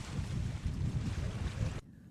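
Strong wind and rough surf at sea during a storm, a loud, steady roar of gusting wind and crashing waves buffeting the microphone, cutting off abruptly near the end to quiet.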